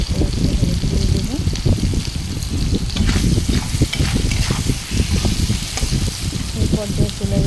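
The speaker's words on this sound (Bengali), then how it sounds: "লবণ দিয়ে দিলাম, লঙ্কা গুঁড়ি ভালো করে নেড়ে নেব।" Potatoes fry and sizzle in a pan as salt and chili powder are stirred in, a continuous loud crackle with scraping utensil strokes, and a voice talks over it.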